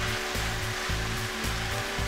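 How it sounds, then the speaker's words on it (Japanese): Beef, mushrooms and flour frying in butter in a pan, a steady close sizzle with a rhythmic pulsing undertone as the mixture is stirred, no talking over it. "じゃあここにきのこ入れて一緒に炒めます。"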